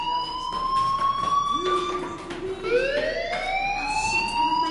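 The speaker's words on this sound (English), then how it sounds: "Hey, do you hear that fire alarm? That means you should be outside." A school fire alarm in the video game Life is Strange 2 wails continuously with rising and falling siren tones, loud and steady throughout, with no talk over it.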